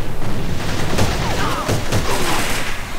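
Loud, sustained gunfire in the A.V.A online shooter during a team 4 versus team 7 summer tournament match, with overlapping shots and booms throughout and faint voices underneath.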